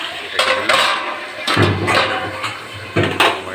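A metal cooking pot lid lifts off and knocks against the pot, making several sharp close clanks and scrapes over a low background hum.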